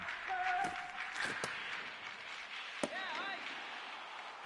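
Capacity arena crowd at an NHL hockey video game hums steadily throughout, with a brief horn-like tone early and a sharp click near the middle; no one speaks.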